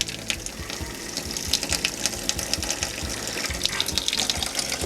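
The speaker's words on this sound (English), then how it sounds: "I like to run at least, a 1/4 of a gallon or so into the kitchen sink so we winterize that whole hose and the macerator pump" Antifreeze pouring steadily into an RV kitchen sink during winterizing of a 2021 Winnebago Revel, a continuous close gushing, splashing stream with no talk.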